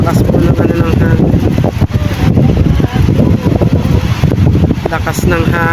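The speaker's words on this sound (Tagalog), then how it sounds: "Lakas ng hangin mga kapiman." Strong wind gusts across a boat out on the water, a loud, continuous broadband roar buffeting the microphone throughout, with a voice speaking over it in places.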